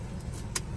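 A car pulling in and parking at a family wedding gathering in India, its low engine rumble steady and close, with a brief higher-pitched hiss or squeak partway through.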